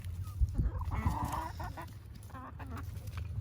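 Chickens in a newly finished backyard coop cluck and squawk steadily while pecking at pizza scraps and eggshells, with a low rumble underneath throughout.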